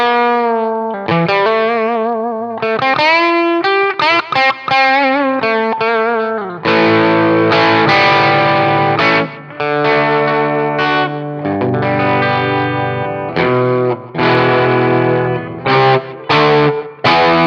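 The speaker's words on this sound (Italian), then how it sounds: "Ascoltiamo un po' di suoni crunch e nel frattempo facciamo anche 2 chiacchiere. Questo è il pick up al ponte." Crunchy overdriven electric guitar from the bridge pickup of a Fender Telecaster Jim Adkins JA-90 with Seymour Duncan pickups, playing loud chords and riffs with effects shimmer, continuous and up close with short gaps between phrases.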